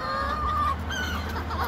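A bantam chicken clucks close by, a few quick throaty calls over a steady low background hum.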